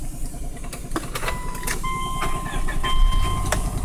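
A Subaru Legacy with about 148,710 miles being started, the starter cranking briefly before the engine catches and settles into a steady idle, close and fairly loud with no talking.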